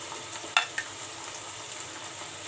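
Brinjal with coriander powder, red chilli powder, salt and asafoetida fries quietly in a pan, a faint steady sizzle with one sharp clink of a spoon early on, no talk.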